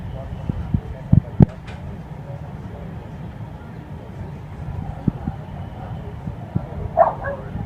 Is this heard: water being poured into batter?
no